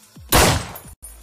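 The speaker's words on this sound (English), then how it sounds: "an up-close gunshot will sound like this" A single close-range video game gunshot effect, a sharp, loud, full-bodied blast that decays quickly and stands alone, with a brief silent gap and a little low noise after it.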